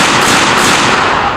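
Rapid gunfire in an action video game, a dense, loud burst of shots packed together across the whole moment with no talk over it.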